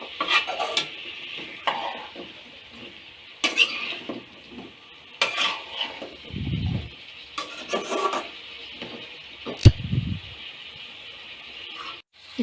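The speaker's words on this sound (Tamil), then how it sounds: "இந்த முருங்கைக்காய் வந்துட்டு வதங்கிட்டு இருக்கு" Drumsticks sautéing in a pan while a spoon stirs and scrapes them, with steady rhythmic scraping and clinks against the metal over a soft sizzle, close and fairly loud, no voices.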